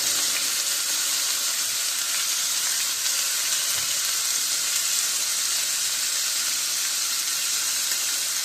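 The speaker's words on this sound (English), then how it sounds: "Get it nice sear." Beef searing in a hot pan, an unbroken loud hiss of sizzling fat throughout, close and steady with no talking.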